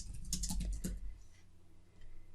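A short burst of fast typing on a computer keyboard gives quick clustered clicks up close, then trails off into quiet room tone.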